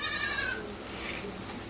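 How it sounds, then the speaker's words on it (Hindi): A goat bleats once, a short, nasal, wavering cry close by, then fades into a low background murmur. "बकरी चरबै"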